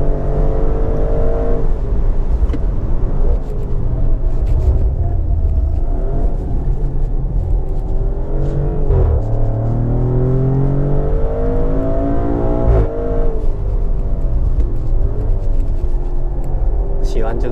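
A Maserati SUV engine revs hard around a race track, its rising and falling pitch sweeping through corners and staying loud and close throughout, with someone talking over it.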